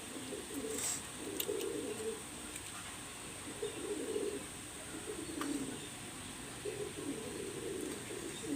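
Pet pigeons, including spotted-eye birds and Teddy and Oman breeds, coo softly in a loft, repeated low burbling phrases in a slow rhythm with faint clicks and rustles between them.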